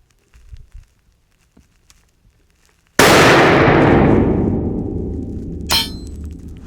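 A low-cost custom rifle fires one loud, sharp shot that rolls into a long echo across open ground. About three seconds later, a faint metallic ding rings from a distant steel target plate.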